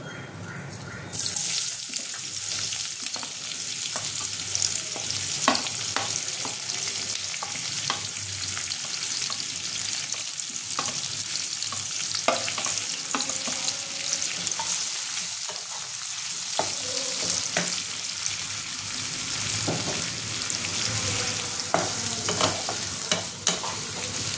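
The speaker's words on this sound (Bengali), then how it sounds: "পেঁয়াজটা আমি হালকা লাল করে ভেজে নেব।" Chopped onions fry in hot oil in a pan, a steady dense sizzle lasting throughout, broken by frequent scraping and clinking stirs of a spoon against the pan, close and clear with no talk.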